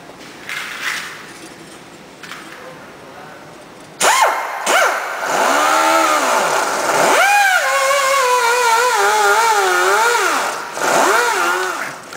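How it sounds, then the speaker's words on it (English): Pneumatic sandpaper grinder grinding a steel surface flat for strain gauge installation starts abruptly after a few quiet seconds, then whines loudly and up close, its pitch rising and falling repeatedly as the tool speeds up and slows. "You see here a pneumatic sandpaper grinder."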